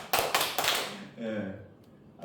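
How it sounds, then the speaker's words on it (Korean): A church congregation bursts into a short round of applause, loud and close, then fades as a voice begins speaking over the dying claps. "남 좋은 일 생기면 박수 치는 거죠."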